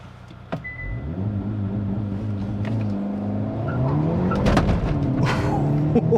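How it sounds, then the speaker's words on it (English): A 2024 Hyundai Elantra N launching hard from 0 to 60 with overboost, the engine climbing steadily through the revs with a brief gear-change dip and some tire chirp, loud and close from inside the cabin. "let's go ahead and see if we can do another 0 to 60 time and see if we can get an improved time."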